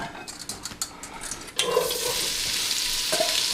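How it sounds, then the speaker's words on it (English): Onions being stirred in a pan for French onion soup, scraping strokes at first, then a steady, close sizzle of frying that holds to the end, with no talking. "I will continue stirring the onions"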